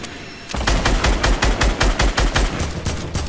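Rapid AK rifle fire from a Fortnite Battle Royale match, a loud sustained burst of closely spaced shots starting after a brief quiet moment and rattling on without talk.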